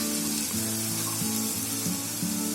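Masala spices sizzle and fry in hot oil on a stovetop, a close, steady crackling hiss that runs the whole time with a low, pulsing bubbling beneath it and no talking.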